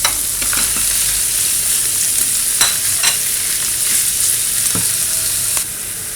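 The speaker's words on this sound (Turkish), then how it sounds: "Evet kıymayı da biraz kavurdum." Steady, loud sizzling of 800 grams of ground beef frying in a pan, with occasional scrapes of a utensil stirring it close by.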